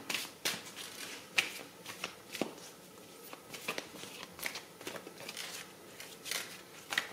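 Lenormand oracle cards being shuffled by hand, a run of crisp riffling snaps and flutters arriving in uneven bursts, close and fairly clear, with no talking.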